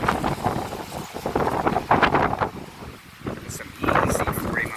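Gusty wind from Hurricane Delta buffets a microphone outdoors in Metairie, Louisiana, a loud rushing roar that swells and eases in bursts, with someone talking over it.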